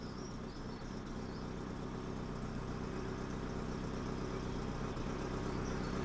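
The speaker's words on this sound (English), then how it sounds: "That exhaust blow does sound like it's getting worse, unfortunately." A Citroen GSA with a hydropneumatic suspension idles steadily with an exhaust blow, a continuous low rumbling drone with a faint puffing edge that stays constant throughout, heard nearby with no talk.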